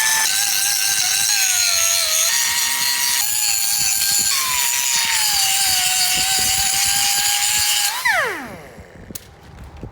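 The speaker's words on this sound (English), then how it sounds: "I just need to give that a quick grind" An angle grinder working on the welded steel bail arm of a CAT 637 scraper, a loud sustained high-pitched whine shifting slightly in pitch as it bites, then spinning down near the end.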